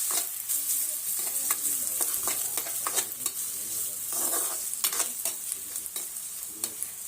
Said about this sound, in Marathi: कांदा कट करून घेतलाय बारीक फिरून हे देखील आपल्याला भाजून घ्यायचं आहे व्यवस्थित